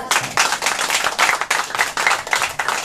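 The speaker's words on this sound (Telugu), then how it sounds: "గట్టిగా చప్పట్లు పెడతాం" Applause from a church congregation at a fasting prayer service, a dense burst of many hands clapping in loose rhythmic waves, loud and close, with no talking over it.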